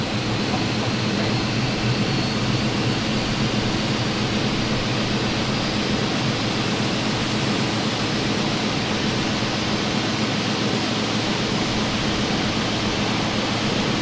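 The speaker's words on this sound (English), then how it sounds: "Waiting your confirmation for a good engine start." An Airbus A320's engines spool up in a flight simulator game at night, a loud, steady broadband jet roar holding unbroken for the whole stretch.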